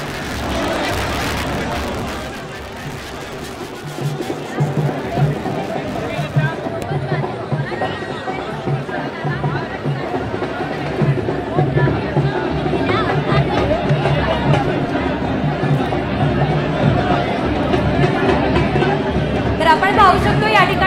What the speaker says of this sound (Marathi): आपण पाहू शकतो या ठिकाणी गर्दी जी आहे ती मोठ्या संख्येने वाढतच चाललेली आहे